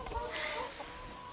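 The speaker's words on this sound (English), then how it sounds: "we've got a couple of hens coming in" A couple of hens cluck softly in a garden, a brief, faint burst of low throaty clucks over quiet background.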